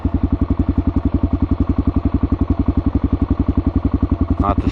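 A Kawasaki KLR650 single-cylinder motorcycle idling close by, a rapid, even thumping pulse that stays steady throughout, with a brief higher-pitched sound near the end.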